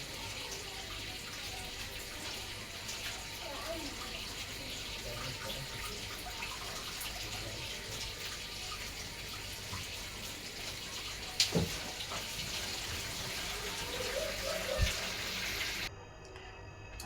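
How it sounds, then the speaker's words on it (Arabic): A peeled onion is washed under a running kitchen tap, with a steady close hiss of water, a few splashes and knocks, and the flow cutting off near the end. "هغسلها بقى غسله حلوه كده، البصلايه اللي انا قشرتها دي."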